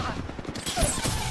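A brief burst of gunfire in the video game Apex Legends, a few rapid shots in quick succession, loud and close.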